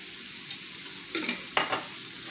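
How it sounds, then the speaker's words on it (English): A 24-ounce jar of mushroom pasta sauce goes into a pan and begins to sizzle and simmer, with two short bursts of stirring and bubbling over a steady low hiss, fairly close and moderately quiet. "And then we're going to also add in that jar of sauce."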